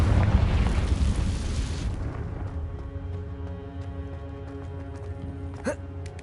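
A Confringo spell explosion in Hogwarts Legacy, a loud booming burst up front that rumbles and fades into a steady tonal game ambience, with a short sharp pop near the end.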